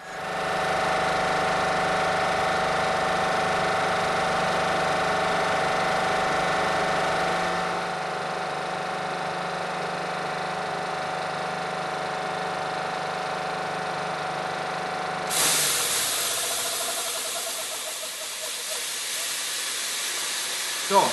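A Bauer Mariner compressor runs loudly while filling an air bottle through an open valve, a steady mechanical drone with hiss that shifts in tone midway, then a sharper airy rush near the end.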